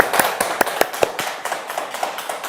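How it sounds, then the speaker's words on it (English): A few hands clap in a quick, steady rhythm, close and crisp, at a livestreamed one-year anniversary countdown event, with no talking. "let's give a big applause to our Movin members."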